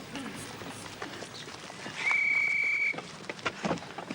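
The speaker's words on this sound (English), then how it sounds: "that was the first whistle" A single sustained whistle blast sounds at mid-distance for about a second, clear over faint background murmur and footsteps.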